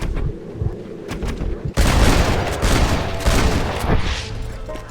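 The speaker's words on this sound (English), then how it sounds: "Should I be shooting my gun too?" Gunshots in Red Dead Redemption ring out as a few sharp shots followed by a loud, dense volley of rapid fire and booming reports continuing for several seconds.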